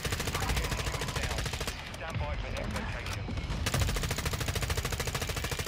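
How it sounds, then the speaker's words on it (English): Rapid, continuous machine gun fire aimed at a plane in the Call of Duty video game, loud and rhythmic with a brief lull midway before the burst resumes, under game sound. "Are you shooting at a plane?"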